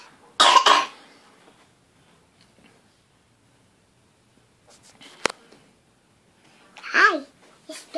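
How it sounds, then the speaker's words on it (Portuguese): A young girl coughs in a short burst near the start, then a quieter cough mid-clip, with an adult voice speaking briefly in a quiet room. "Tosse de novo"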